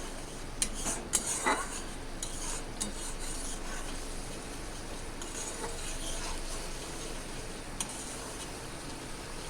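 Spices frying in oil in a pan over medium flame are stirred repeatedly, a spoon scraping and clinking against the metal with a steady rasp and soft sizzle, close and fairly quiet.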